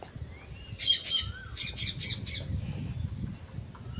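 Pet pigeons in a home loft give a few short, bright squawking calls in two quick bursts, close by, over a low steady rumble of background noise.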